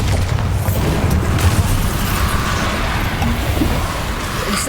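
Bombarda spell explosion in Hogwarts Legacy, a loud, deep blast that swells and then rumbles on steadily as a low, sustained roar.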